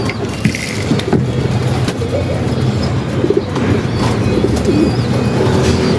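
Racing pigeons at feeding time coo and flutter in a loft, a dense close chorus of soft throaty calls with faint chirps and a low mechanical hum running underneath.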